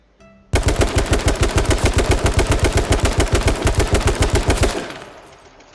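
Sustained automatic weapon fire in the H1Z1 video game: a rapid, evenly spaced burst of roughly thirty loud shots lasting about four seconds, then stopping abruptly with a short fading echo.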